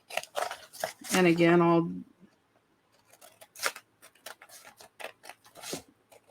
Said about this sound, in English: Let me go ahead and trim it out.